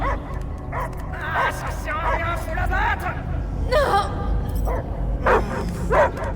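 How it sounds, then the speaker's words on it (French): A dog barks, yips and whimpers in the video game Guardians of the Galaxy, in short bursts mixed among French-speaking voices. "J'entends que des aboiements."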